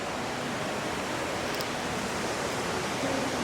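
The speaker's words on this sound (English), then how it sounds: "I can already hear a waterfall." Steady broadband rush of falling water, constant and even throughout, like an indoor cascade heard from nearby with no voices.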